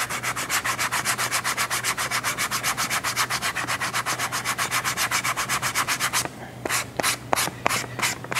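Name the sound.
sanding the glued edges of a leather wallet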